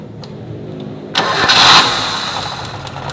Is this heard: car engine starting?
yes